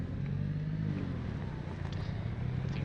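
A car engine idles steadily in a multiplayer survival video game at an unpowered gas station, giving a continuous low rumble with no clear revving. Nobody speaks.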